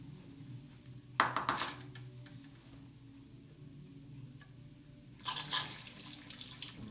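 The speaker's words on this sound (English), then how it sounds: "I'm rinsing the funnel in case there's any" Tap water runs briefly into a sink while a glass funnel is rinsed in a chemistry lab, two short splashing bursts separated by a quiet stretch with faint background hum and ticks.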